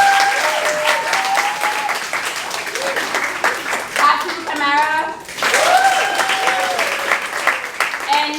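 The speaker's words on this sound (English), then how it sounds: "please give a round of applause for Aisatu Simaga" Enthusiastic audience applause fills a graduation celebration, a dense crowd of clapping hands that swells and continues steadily while a person speaks over it through a sound system.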